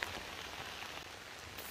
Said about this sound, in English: It's drizzling already.